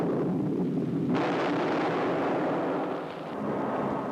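Tank main gun fire during a 1971 troop-platoon assault: a sustained, loud broadband roar with a sharp boost partway through, like blast and rumble rolling on, with no voices.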